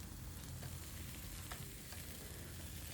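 Bok choy sizzles and crackles in a hot pan over a medium flame as it is stirred with garlic and spring onions, a steady, fairly quiet frying hiss with faint scraping of the stir.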